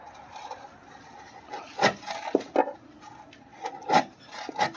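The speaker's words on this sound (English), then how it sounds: "I just scraped it with my pry bar" Grime being scraped off a 1992 EG hatchback with a pry bar, giving rough, rasping scrapes in short uneven strokes, close and moderately loud, with quieter pauses between the pulls.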